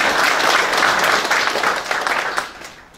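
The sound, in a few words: audience applause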